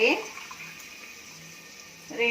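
Water is poured from a glass into a cooking pot of masala rice, giving a soft, steady trickling pour. A voice is heard briefly at the start and end.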